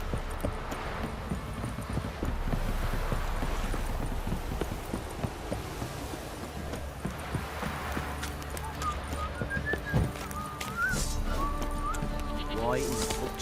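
Horses in The Witcher 3 move with clip-clopping hooves and a whinny near the end, amid busy game ambience, bleating animals and a voice talking over it.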